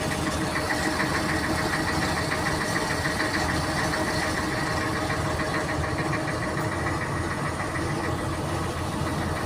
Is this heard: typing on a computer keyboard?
no